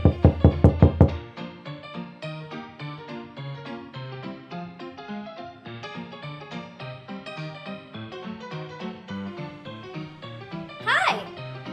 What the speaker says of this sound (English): One day, he heard a knock at the door.